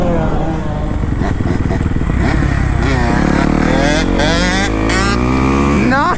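A KTM two-stroke enduro motorcycle engine during wheelie practice, a loud, buzzing ring that rises and falls as the rider blips and holds the throttle, running continuously close to the mic.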